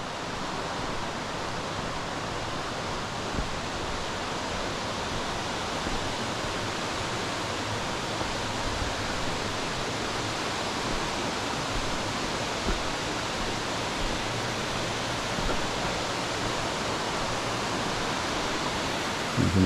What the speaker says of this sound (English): You can look up there and see the water cascading down.